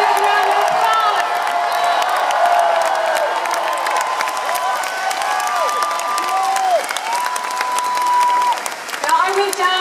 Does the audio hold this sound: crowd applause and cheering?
yes